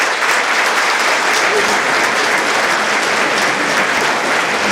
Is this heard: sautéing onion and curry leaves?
no